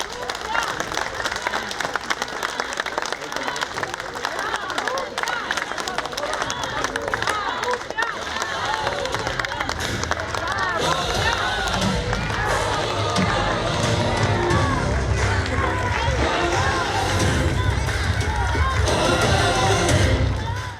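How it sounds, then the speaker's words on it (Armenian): A large outdoor crowd claps and cheers steadily in welcome of Gagik Tsarukyan during a stop in Lori province, the dense applause continuous and loud throughout with voices shouting within it. "Բարձր ծափերով դիմավորում են Գագիկ Ծառուկյանին"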